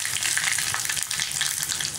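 Dried red chillies and cumin sizzle in hot oil for a gooseberry rasam, a steady close crackling fry with small pops throughout and no voices.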